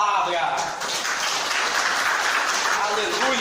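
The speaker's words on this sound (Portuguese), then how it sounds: "Vamos aplaudir essa palavra." A church congregation applauds after a sermon reading, a dense, loud wash of clapping filling the room from start to finish with no voices on top.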